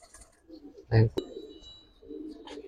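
A domestic Giribaz pigeon gives a short, low, throaty coo that stands out briefly above quiet background voices and a sharp click, with a muffled rumble trailing afterward.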